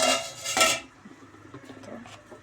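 A metal lid lifted off a cooking pot of paneer gravy, a bright clanging scrape up close, followed by faint clinks and quiet simmering.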